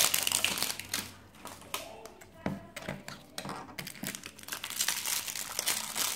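Crinkly plastic from a LOL Surprise toy's zipper bag rustles and crackles up close as it is handled and opened, coming in irregular bursts of crumpling and sharp snaps, with brief talk in between.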